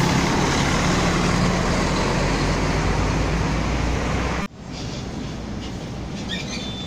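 An Águia Branca intercity bus pulls out of the company garage in Cariacica, its steady engine roar and road noise loud and continuous before cutting to a quieter, more distant rumble.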